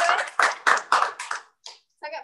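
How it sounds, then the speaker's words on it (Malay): Theatre audience applauds an actor after a forum theatre performance, a few short bursts of clapping that fade into brief gaps, with a voice heard near the end. "berikan tepukan yang sangat-sangat gemuruh kepada Khairul"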